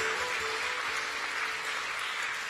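Fairly quiet, steady applause from a concert audience, an even wash of many hands clapping that holds without a break throughout.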